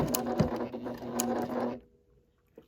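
A sewing machine stitches a seam on a tote bag made from a men's shirt, running in a close rapid mechanical chatter before stopping abruptly, followed by near silence and a single small click.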